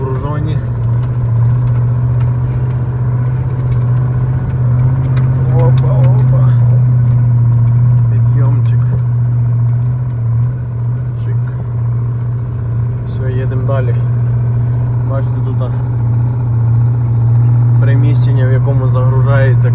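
A sugar beet truck loaded with beets rolls out through a factory yard, its engine droning low and steady and rising slightly under more throttle, close and continuous, while someone talks over it.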